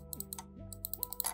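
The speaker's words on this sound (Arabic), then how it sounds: "فاسمع معايا كده صوت الكليكات وبكره او عجله التمرير" A Dell computer mouse clicked with its left and right buttons, giving a quick burst of sharp, plasticky clicks very close to the mic, some in rapid pairs, with no speech.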